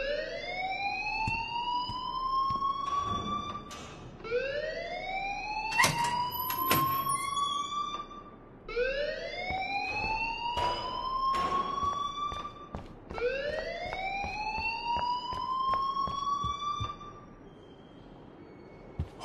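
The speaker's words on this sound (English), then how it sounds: "please turn off that alarm since that's your job." Alarm ringing in the video game Life is Strange: a loud, repeating rising electronic whoop, four sweeping cycles in steady rhythm, with a few brief thuds mixed in before it cuts off near the end.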